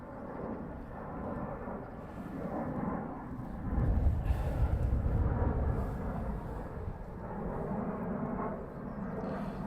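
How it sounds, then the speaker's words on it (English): A Finnair airliner taxis at London Heathrow Airport, its engines a low, steady rumbling drone at moderate distance, swelling briefly louder midway before settling back. "So the Finnair is taxiing out."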